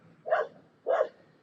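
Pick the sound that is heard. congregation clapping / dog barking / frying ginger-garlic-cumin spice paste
dog barking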